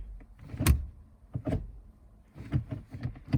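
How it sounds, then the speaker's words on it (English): A Ford Focus ST manual shifter fitted with new cable bushings clicks firmly into gear, a series of short, close mechanical clunks and snaps separated by brief pauses. "it just snaps right into gear"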